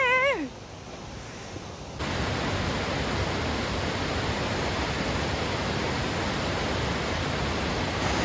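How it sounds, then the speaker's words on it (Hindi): A Himalayan waterfall roars as a steady, dense broadband rush that grows louder after a brief quieter start, where a short high-pitched squeal is heard. "वो झरना मेरे आँखों के सामने है।"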